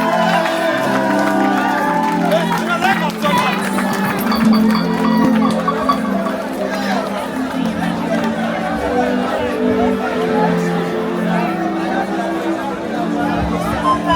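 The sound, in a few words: concert crowd applauding and cheering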